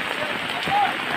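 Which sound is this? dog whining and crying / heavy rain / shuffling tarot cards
heavy rain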